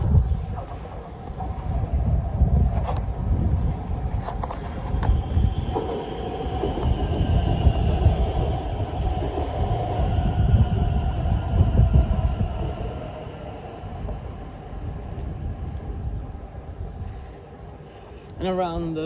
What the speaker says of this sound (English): It's a 4-coach Class 710 bound for Watford Junction.